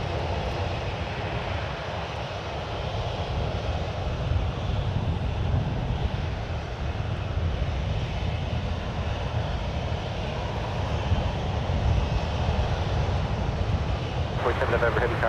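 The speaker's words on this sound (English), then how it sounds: "There goes Qatari Flight 738, an A350 1000 off to Doha." A Qatar Airways Airbus A350-1000 takes off from San Francisco International bound for Doha, a steady broad jet roar lasting throughout under a voice speaking, with some wind buffeting.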